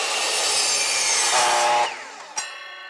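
A saw rasps through a wooden roof rafter board making plumb cuts, a close, loud, steady stroke-by-stroke grind that stops abruptly, followed by a brief knock and a ringing tail.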